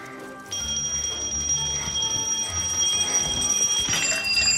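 Multiple alarm clocks ring in an escape-room challenge game, starting after a brief quiet moment and then sounding continuously as a loud, layered high-pitched electronic ringing with no voices.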